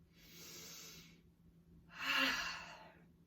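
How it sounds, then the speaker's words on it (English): Two slow, audible Ujjayi breaths during a gentle yoga class, a soft airy exhale followed by a louder, rougher breath with a throaty hiss, close to the microphone. "You may hear my breathing at times. That's Ujjayi breathing."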